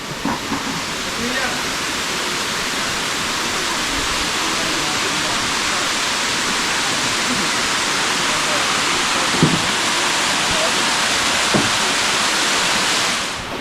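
Nota waterfall in Karen State roars as a loud, close, steady broadband rush of falling water that continues unbroken, with a few faint knocks and low sounds underneath.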